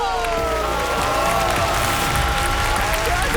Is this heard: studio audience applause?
yes